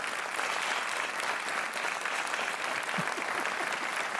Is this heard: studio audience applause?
yes